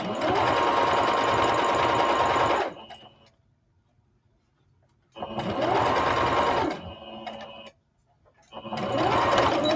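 A sewing machine with its stitch length set to 3 runs a seam on skirt fabric being turned into palazzo pants. It makes three loud, close stitching bursts of two to three seconds, separated by near-silent pauses.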